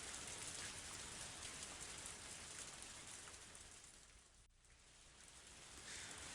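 Rain pours steadily in a scene from the video game Higurashi. The hiss is dense and even, dipping briefly before swelling again, with no voices.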